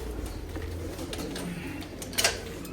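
Pigeons of a long-flying Mardin breed coo softly at a bird auction, a low murmur under steady background noise with a brief louder flutter near the end.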